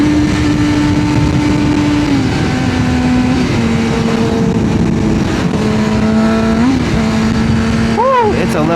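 A car getting onto the highway gives a steady engine drone and road rumble as it shifts pitch through gear changes and accelerates, with a voice talking over it.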